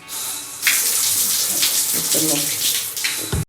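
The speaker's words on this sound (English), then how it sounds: "I'm about to take a shower, full shower, and wash my body with this." Shower water runs steadily and loudly, a continuous broad spray hiss filling the whole moment with brief interruptions as something moves through the stream.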